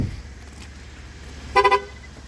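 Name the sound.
2023 Chevrolet Traverse alert for key left in pocket while running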